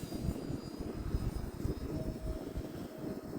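An E-flite A-10 Thunderbolt II radio-control jet with twin 64mm electric ducted fans flies at a distance outdoors, giving a faint, continuous whooshing whine over rumbling wind noise.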